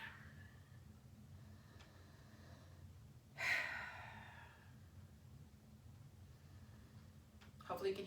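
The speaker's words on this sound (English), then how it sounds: "Hopefully you can hear my breath. I'm trying to accentuate, exaggerate it for you." Exaggerated breaths during a seated chair-yoga hip opener: one fairly audible inhale-exhale and a second shorter breath near the end, otherwise faint room quiet.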